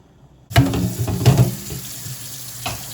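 A kitchen tap suddenly gushes cold water over boiled noodles being rinsed for spring rolls, a steady close splashing stream with a few heavier spatters.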